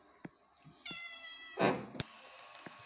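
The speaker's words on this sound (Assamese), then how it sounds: "মেকুৰীজনী দেখিছে নহয়, মোৰ পাছে পাছে অকল লাগিয়ে থাকে আৰু" A house cat meows once, close and fairly loud, amid quiet kitchen sounds with faint clicks and a brief higher squeak shortly before.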